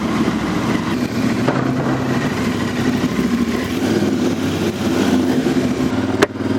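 A Royal Enfield Super Meteor 650 motorcycle rides over a rough, broken road, its exhaust holding a steady, close, loud rumble throughout, with one sharp knock near the end.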